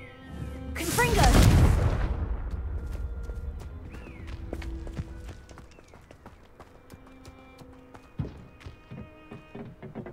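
The Confringo fire spell in Hogwarts Legacy bursts with a loud whooshing blast that fades over a few seconds, followed by scattered light thuds and clicks.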